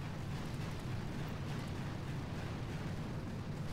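Dense, continuous rumbling barrage of distant explosions from an artillery attack on a tropical island base in the mobile strategy game Boom Beach, a steady low roar with faint pops, no voices.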